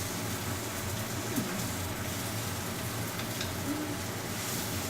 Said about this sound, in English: I'm not really sauteing these onions. I'm just sort of half cooking them.